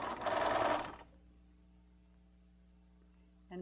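A sewing machine stitches neckline binding in a short, loud, steady whirring burst of about a second, then stops, leaving a faint electrical hum in a quiet room before a brief sound at the end.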